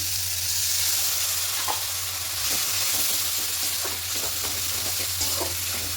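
Spices and grated coconut are stirred and scraped through a sizzling pan of potato and paneer ghugni, with a steady frying hiss under repeated close scraping strokes of the spoon.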